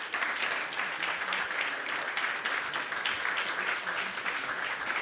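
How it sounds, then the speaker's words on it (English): A steady, dense round of applause from an online audience fills the whole stretch at moderate, even loudness, with no voices over it. "Please give them a big round of applause."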